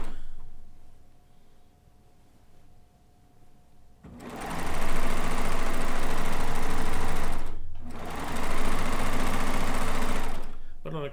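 A sewing machine attaches a solid border to a pieced Kaffe layer cake quilt top, after a quiet start breaking into two loud, sustained runs of fast whirring stitching separated by a brief pause.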